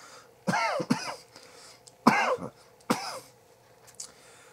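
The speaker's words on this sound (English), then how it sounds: "It's making me cough, a lot of that vapor." A person coughs from vape vapor in several harsh bursts, one or two close together then a few more spaced apart, loud and near with quiet pauses between.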